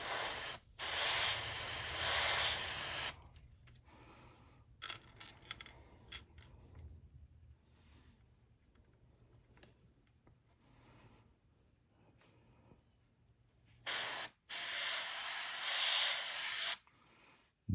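Airbrush hissing paint through a small stencil onto a custom crankbait lure, loud bursts at the start and end with quieter, intermittent short sprays and handling noises between.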